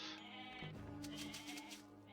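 Sheep bleat from the Age of Mythology game, a short call rising over a steady, busy in-game background with music and ambience beneath it.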